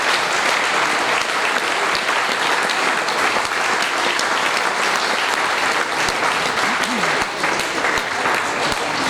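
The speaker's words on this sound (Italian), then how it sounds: "raccogliendo ancora un applauso" Sustained audience applause for an alpine choir, Le voci della foresta, at an alpine choir festival, a dense steady clapping that holds at an even level for the whole stretch with no voices above it.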